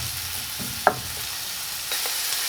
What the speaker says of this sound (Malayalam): ചെറുതായിട്ട് സ്ലൈസ് ചെയ്തിരിക്കുന്ന നമ്മുടെ പച്ചമുളകും കൂടി ഇതിലേക്ക് ആഡ് ചെയ്ത് കൊടുക്കാം. നമുക്കത് ജസ്റ്റ് ഒന്ന് ഫ്രൈ ചെയ്തെടുക്കാം.